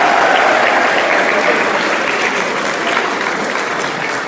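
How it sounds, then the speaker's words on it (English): An audience at a school sports quiz competition in Dehradun applauds, a loud sustained round of many hands clapping that fades slightly toward the end, with no speech over it. "Everyone please clap for Kasika Group."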